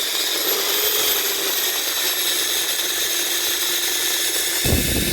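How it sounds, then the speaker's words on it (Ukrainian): Drill with a 10 mm bit boring out a stabilizer bushing on a Volkswagen Caddy, a steady high-pitched grinding whine running continuously and close, with a brief louder burst near the end. "Беремо сверло на 10, отак зміщаємо втулочку. Як нам удобно і висверлюємо."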